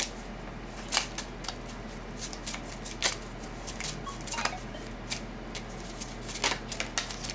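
Tarot cards shuffle close by in a quiet room, a series of soft, irregular riffling flicks and taps with short pauses between them.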